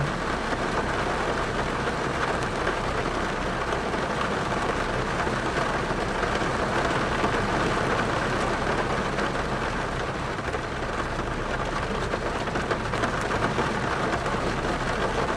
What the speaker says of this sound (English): I'm still sitting out here in this rain